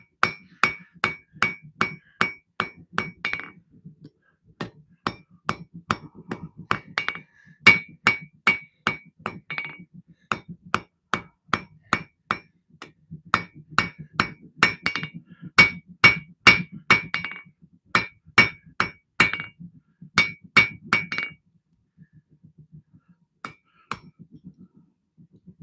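Hammer blows forge the tang of a custom knife from a quarter-inch piece of steel, landing in fast, ringing bursts of sharp strikes separated by short pauses, loud and close, with no talking.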